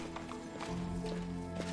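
Horse hooves clip-clop in Pathfinder: Wrath of the Righteous, a steady run of game-mounted hoofbeats over a sustained musical drone, moderately loud with no talk.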